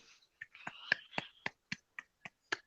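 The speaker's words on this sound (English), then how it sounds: "I was giving the slow golf clap to this one." A slow golf clap is heard close and fairly quiet, about nine sharp separate claps in an even, unhurried rhythm with short gaps between them.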